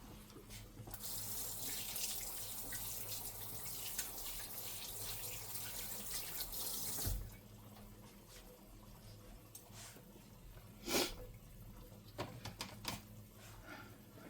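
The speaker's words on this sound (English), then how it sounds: "now I'm going to rinse my spoon off" A spoon is rinsed under a running kitchen tap, a steady rush of water for about seven seconds, then quieter drips and light clinks once the flow stops.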